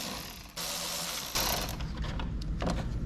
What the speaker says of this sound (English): I'm going to go ahead and use an extension to get these bolts out